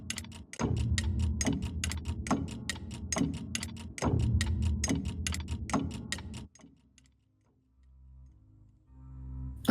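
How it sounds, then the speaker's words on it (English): A ticking clock in the game Murder-Mystery Machine beats in a steady, loud rhythm over a pulsing low tone, then cuts out into near silence before faint low sounds return. "I do like that ticking clock sort of noise"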